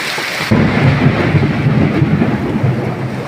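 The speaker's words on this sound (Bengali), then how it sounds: "আপনারা শুনতে পারলেন অনেক জোরে আওয়াজ হচ্ছে এটা হচ্ছে বিদ্যুৎ চমকাচ্ছে" Thunder rumbles loud and close through a heavy monsoon downpour over flooded streets, a deep rolling roar starting abruptly after a brief hiss of rain and holding steady for several seconds.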